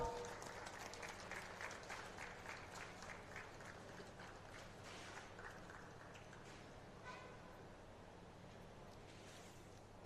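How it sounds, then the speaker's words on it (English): A conference audience at a national cancer biology meeting applauds, a fairly faint, even wash of clapping that starts strongest and slowly thins, with a few distant voices beneath. "We can have applause."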